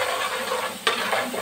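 Ginger garlic paste for prawn biryani sizzles in a pan, with a steady close frying hiss and a sharp scrape of a spoon partway through, and no voices.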